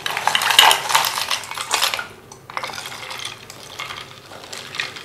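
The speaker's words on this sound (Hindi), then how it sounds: "इसमें थोड़ी सी बर्फ़ डाल दें।" Ice drops into rabri sharbat and is stirred with a spoon, giving bright clinking and rattling against the glass that is loud at first, then after a short pause continues as softer, scattered clinks.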